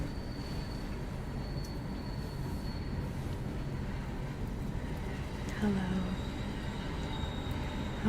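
A train passes at a distance, giving a steady low rumble with faint wheel squeal and a brief brighter screech near the end, while someone speaks softly once.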